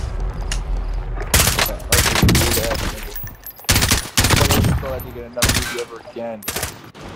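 Bursts of automatic gunfire and single shots in a video game come in several separate volleys, loud and close, with quieter stretches between them and voices talking in between.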